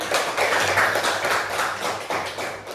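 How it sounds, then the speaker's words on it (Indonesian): A classroom of students clapping their hands together in a steady, dense patter that stays fairly loud and even throughout, with no talking over it. "Oke, tepuk tangan untuk kita semua."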